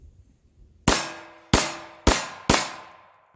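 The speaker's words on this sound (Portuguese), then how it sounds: "Ó, 4 tiros." Four sharp 9mm pistol shots from a Taurus TH9, fired at uneven intervals about half a second apart, loud and close with short decaying tails and no talking.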